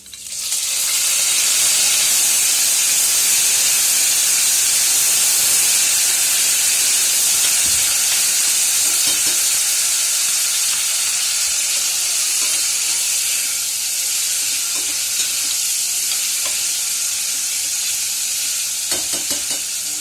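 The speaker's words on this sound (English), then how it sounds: "Once that is fried a bit, you put in your vegetables." Vegetables with green and red chili fry in a hot pan, giving a loud, dense, continuous sizzle and hiss that holds steady for the full stretch, with faint stirring clatter and no talking.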